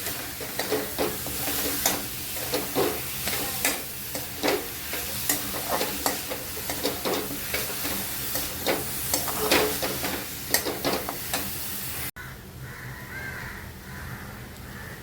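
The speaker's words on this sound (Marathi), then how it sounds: "छान असं गूळ वितळस्तवर आपल्याला खोबरं परतून घ्यायचं ते तुपावरती" Grated coconut and jaggery roasting in ghee are stirred with rhythmic scrapes over a soft sizzle, while crows caw repeatedly in the background. The sound drops abruptly to a quieter background near the end.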